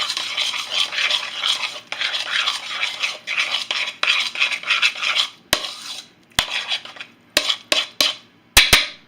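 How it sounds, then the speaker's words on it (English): A spoon stirs a creamy keto cheddar bay biscuit mixture in a bowl, scraping in close, rhythmic strokes. The stirring then gives way to a few sharp taps and clinks against the bowl's rim. "I'm going to stir that all up again"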